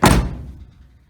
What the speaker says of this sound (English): At the passenger side, this door actually opens mint.